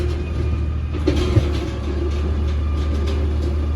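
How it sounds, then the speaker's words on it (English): A garbage truck with a grabber arm draws closer along a residential street, its engine a steady low rumble that stays constant at moderate distance with no voices. "Today is garbage pickup day through my street, and I hear the garbage truck."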